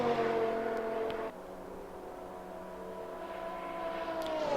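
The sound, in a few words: GT3 race car engine screaming past, racing video game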